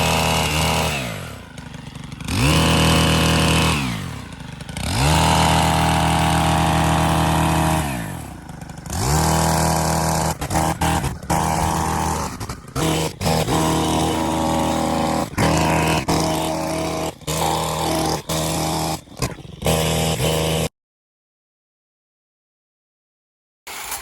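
A Stihl KM130R engine trimmer cuts shrubs, its motor revving up and dropping back to idle repeatedly in loud close bursts, followed by a sudden cutoff into silence.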